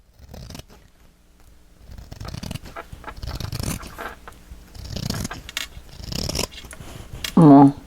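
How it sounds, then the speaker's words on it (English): Scissors not meant for fabric cut paper scraps for a purse-size journal, making several close, crisp snips in separate bursts with quiet pauses between them. "So I'm going to go ahead and cut some of this off because I don't need all of it."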